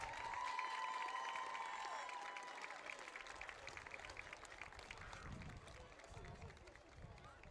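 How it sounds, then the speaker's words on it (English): Crowd applause and cheering in an outdoor football stadium at a Calvary Christian homecoming, fairly distant and steady, with crowd babble and a faint tone early on. "let's give a big round of applause to our incredible homecoming court"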